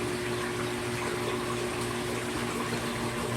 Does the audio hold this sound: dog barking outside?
no